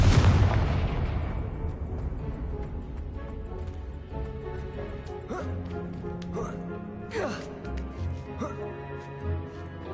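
A Confringo blasting spell explodes in Hogwarts Legacy with a loud, close boom at the start that rolls off into a fading rumble, followed by scattered game effects and short tonal chirps.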